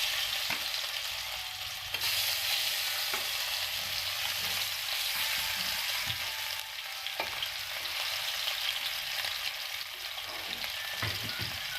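Pieces of rohu fish rubbed with salt and turmeric fry in mustard oil, giving a steady, close crackling sizzle with occasional soft knocks as they are turned.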